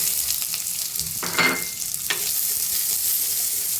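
Shallots and curry leaves sautéing in a pan for mango pachadi, a steady broadband sizzle with a few louder stirring scrapes near the start, close and continuous with no talking.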